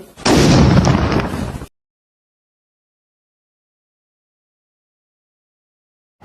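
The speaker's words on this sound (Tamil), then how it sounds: "கேக்குக்குள்ளே ஒரு அணிகுண்டு வச்சு அதை பொருத்தி விட்டு வெடிக்க வச்சாங்க." A firecracker bomb placed inside a birthday cake goes off in a single loud, harsh blast that roars for over a second, then drops to sudden, complete silence.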